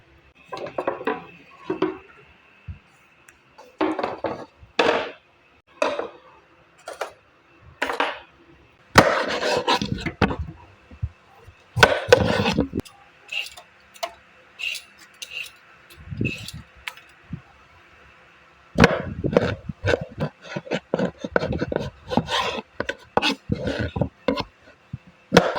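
Knife strokes slice sponge gourd (patola) on a wooden board in a home kitchen, a series of sharp irregular cuts in bursts, close and crisp, with quiet gaps between groups of chops.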